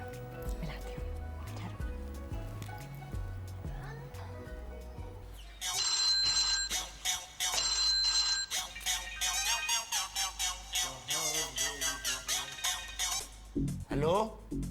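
A telephone rings repeatedly after a call is dialed in a comedy telefilm scene: bright, loud bursts of electronic ringing in a regular pattern, with background music beforehand.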